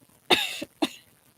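Two close coughs, the first longer and rasping, followed a moment later by a shorter second one.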